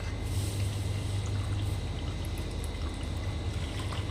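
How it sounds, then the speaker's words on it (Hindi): Water pours steadily into a bowl of soaking gond katira in a home kitchen, a continuous close trickling splash with a low hollow undertone and no talking. "डाल दिया पानी, बट मुझे लग रहा है कि मैं और ज़्यादा पानी डाल दूँ।"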